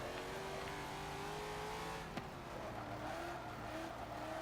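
A go-kart in the Forza 7 racing game runs flat out with a steady, loud engine drone and harmonic whine, a brief tire-scrub blip midway, no voices over it.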